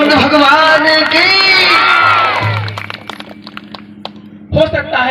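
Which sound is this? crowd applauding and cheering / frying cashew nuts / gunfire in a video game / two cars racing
crowd applauding and cheering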